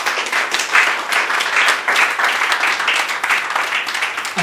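Church congregation clapping and cheering for Jesus during a French-language sermon: steady, dense applause from a crowd filling the room, sustained without a break from start to finish.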